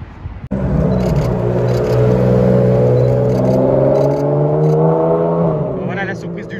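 A yellow Ferrari Enzo roars past on a Paris street, its loud, sustained engine note rising and shifting as it drives by close, with no talk over it.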